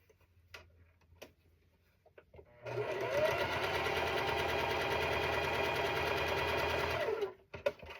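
A sewing machine stitches quilt rows together in one continuous, rapid, even run of about four seconds, loud and close, with quiet handling sounds before and after.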